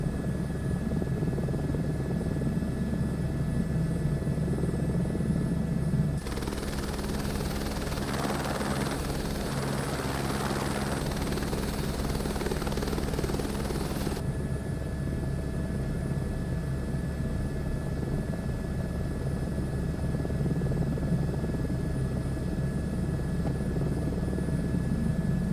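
A helicopter in Microsoft Flight Simulator 2024 gives a steady, loud rotor and engine drone throughout, with a brighter, rougher rush for several seconds in the middle, and no talking.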